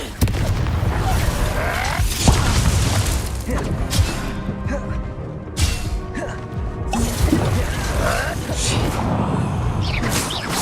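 A Confringo blast spell bursts with booming, crackling impacts amid busy combat effects in Hogwarts Legacy during the Professor Rackham trial, dense and loud throughout, with character voices shouting over it.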